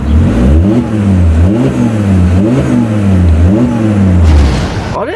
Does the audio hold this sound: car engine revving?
yes